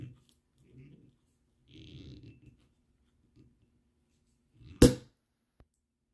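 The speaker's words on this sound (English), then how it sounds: "Okay, good pop." A single sharp Prosecco cork pop rings out loudly after some quiet murmuring, followed by a faint click.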